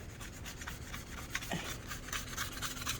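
Rust being scraped off the trim of a 2007 Toyota FJ Cruiser with a straight-edged tool, giving a steady, close rasping rub that continues without pause for a few seconds and has no talking over it.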